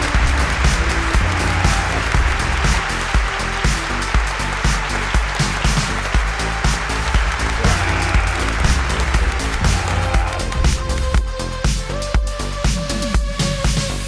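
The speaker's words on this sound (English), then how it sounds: "Round of applause." Crowd applause rises in an NHL 22 hockey game arena after a Buffalo Sabres victory, a sustained wash of clapping and cheering over repeated game sound effects and horns.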